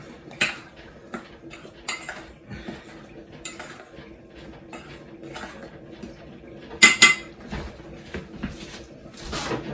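Pork chop, Ilokano style, being mixed in a pan with utensils: repeated metallic scrapes and clinks against the pan, irregular and close, with a louder cluster of knocks near the end.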